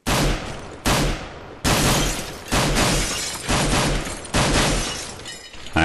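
Glass window repeatedly shot and shattered with a Glock pistol in Counter-Strike, about seven sharp bursts at a steady rhythm, loud and close, each followed by a breaking crash, with no talking.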